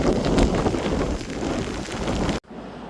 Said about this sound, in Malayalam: നല്ല മഴ പെയ്തുകൊണ്ടിരിക്കുകയാണ്.